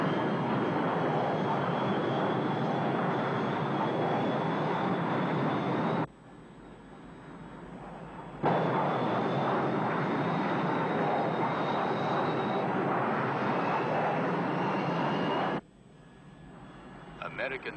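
Soviet military aircraft flying overhead, a loud, steady engine roar that fills the whole stretch, dipping briefly twice before resuming, with a voice speaking over it.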